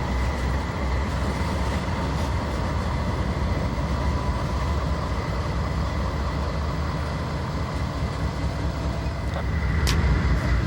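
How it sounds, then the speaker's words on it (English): Freight train 26T with K-line containers rumbles steadily past a Pennsylvania crossing as it slows, a continuous loud wheel and car roar with a brief high squeal near the end, no voices. "As the train 26T slows down to flag the crossing"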